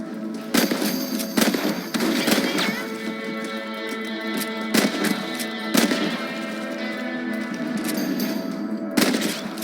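In the Red Dead Redemption video game, rifle shots ring out while rabbits are hunted. Sharp, loud cracks come irregularly about eight times, some in quick pairs, over a continuous bed of game music and ambience.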